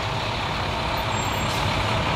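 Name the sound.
fire truck driving in a parade, air brakes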